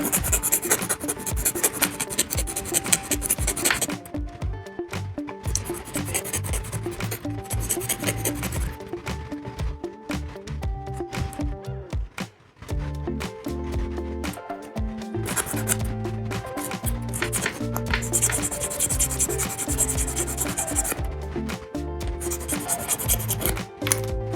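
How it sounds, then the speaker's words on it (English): Rough edges on Tamiya Mini 4WD VZ chassis rollers are sanded by hand, a steady scratchy rubbing that runs continuously at close range with only brief pauses, no voices. "But if you can still feel some rough edges, then sand."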